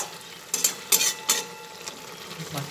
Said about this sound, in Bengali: নুন দেওয়ার পরে ভালোভাবে আবার মিশিয়ে দিচ্ছি।